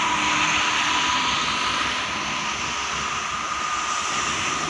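Garuda Mas bus passing at night on a busy Trans-Java toll highway near km 188, a steady loud broadband roar of engine and tyres that fades slightly as it moves on, with constant traffic hum beneath.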